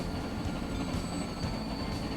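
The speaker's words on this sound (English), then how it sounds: "There goes one of the farthest north traveling South Haven freight trains" A freight train carrying food passes by in the video game Transport Fever, a steady loud rumble of rolling wagons with faint rhythmic clatter and a thin high squeal throughout.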